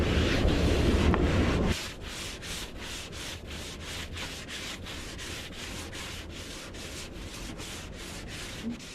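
Body filler on a Chevrolet Suburban fender is sanded by hand. A louder rough burst opens, then even back-and-forth strokes follow at about two per second, close up with no voices.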